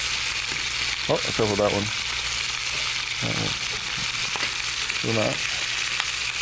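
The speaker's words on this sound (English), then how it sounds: "We're just gonna quickly sear the outside." Food searing in a hot frying pan, a steady sizzling hiss throughout with a person speaking briefly over it.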